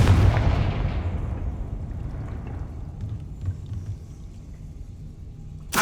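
A Confringo fire spell blasts in Hogwarts Legacy as a loud, booming explosion at the start that fades into a long rumbling tail, followed by a fresh burst at the very end.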